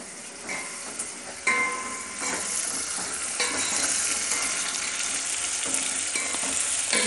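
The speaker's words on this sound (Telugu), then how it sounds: "ఆనియన్లో ఉన్న వాటర్ అంతా బయటకు వచ్చేసి మంచిగా తొందరగా ఫ్రై అయిపోతాయి అన్నట్టు. వేగుతున్నాయి." Onions frying in a pan for sambar give a steady, close sizzle throughout, with occasional stirring scrapes and no talking.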